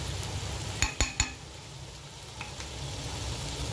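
Liver and onions frying in a pan with spices give a soft, steady sizzle, with a few sharp clinks of a utensil against the pan near the start and one quieter tap later.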